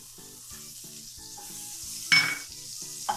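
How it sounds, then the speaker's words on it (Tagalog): Butter sizzles and crackles in a hot pan as a gravy base, a close steady frying hiss with rhythmic stirring scrapes and a couple of sharp clinks of a utensil against the pan. "Lagyan natin ang ating butter."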